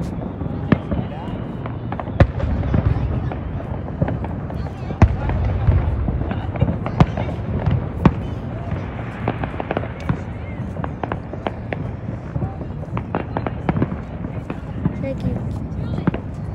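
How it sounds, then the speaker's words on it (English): Rapid crackling pops and bangs of New Year's fireworks go off repeatedly over a rumbling background in San Antonio, Texas, fairly close, with people talking throughout. "wait to do the firework"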